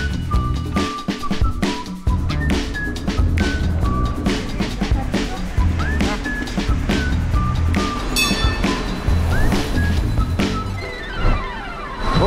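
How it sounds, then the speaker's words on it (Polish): A train or tram rolls past on Sotra island near Bergen, Norway, with rumbling wheels, clicks and brief high metallic squeals, steady and fairly close for several seconds. "Pociąg, tramwaj, nie wiem."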